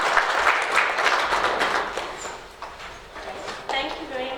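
Audience clapping at a university nutrition academic evening, a thick burst of applause that thins and fades, with a voice speaking over the tail end.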